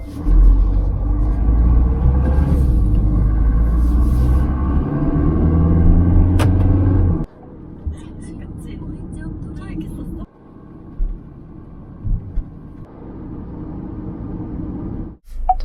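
Inside a Very New Tivoli SsangYong driving on a country road, a heavy low cabin rumble dominates, then the drone eases to a quieter steady hum with a few brief clicks and shifts.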